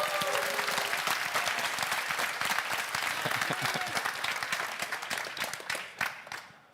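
Audience applause in a hall at a security conference, dense clapping from a crowd that stays strong for several seconds and then tapers off toward the end.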